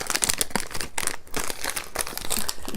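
Crinkling plastic packaging of Rustichelli rosemary crackers being opened, with continuous close, loud crackling and rustling bursts throughout.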